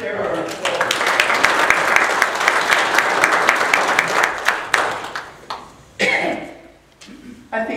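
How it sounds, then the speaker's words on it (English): A church congregation claps together, a lively burst of many hands that swells, holds for several seconds and tapers into scattered claps, coughs and murmured voices before fading. "Let's share our applause."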